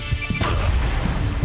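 A grenade detonates in the video game Huntdown, a loud close blast after a brief tonal beeping, followed by a dense, crackling rumble that fills the rest of the moment.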